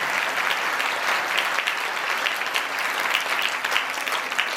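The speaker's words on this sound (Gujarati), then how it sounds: "આપણે સર્વે વળી એકવાર બાબાને પણ તાળીઓથી વધાવીએ." Audience at a religious discourse applauds, a dense, steady burst of many hands clapping together that sustains evenly from start to finish.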